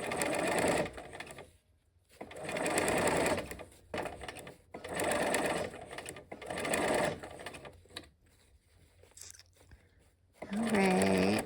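A sewing machine stitches fabric in several bursts of fast mechanical whirring, each lasting a second or two and separated by brief pauses, close and clear, with a short spoken remark near the end.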